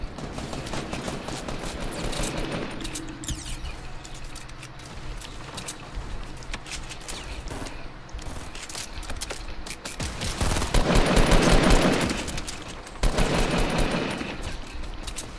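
Rapid gunfire from a squad shooter video game, with dense bursts of automatic shots and fusillades swelling louder toward the end, heard alone without talk.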